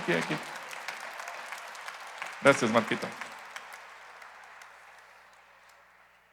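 Applause from a church congregation, light clapping with a louder burst in the middle that fades into scattered claps, while someone speaks over the start.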